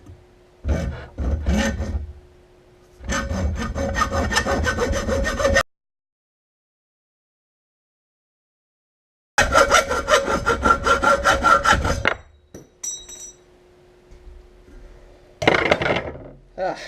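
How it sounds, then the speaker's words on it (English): A hacksaw cuts a couple of inches off the end of a metal piece for a custom joystick mount, loud rhythmic rasping strokes in several bursts separated by pauses, with a short stretch of silence and brief talk between. "So now I'm going to be using a hacksaw and just cutting, a couple inches off of the end of this."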